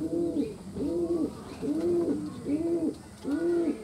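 A Turbit pigeon coos in a steady rhythm, five close, clear, rounded calls repeating about every three-quarters of a second, with no voices.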